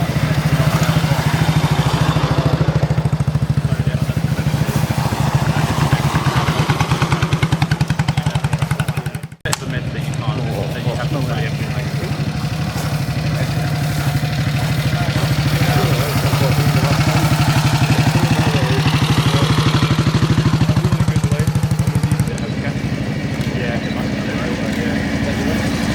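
Military motorbikes idling at an Echoes of History event: a loud, steady low engine rumble runs almost throughout with a brief dropout, while people talk over it.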